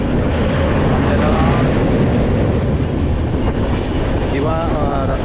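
Konkan Railway Diva–Sawantwadi Express running on the Konkan line, a loud continuous rumble and clatter of the coaches heard from on board, steady throughout.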